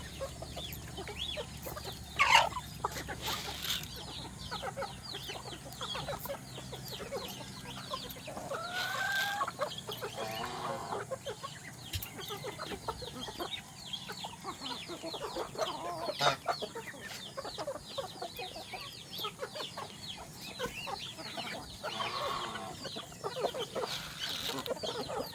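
Several chickens cluck and murmur continuously nearby, with a rooster crowing faintly at moments and general farmyard bustle.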